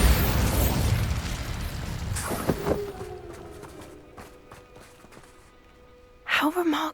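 A Bombarda blasting spell detonates in the Hogwarts Legacy video game, a loud broadband burst that decays into a ringing magical shimmer and hum, with a second sharp blast near the end.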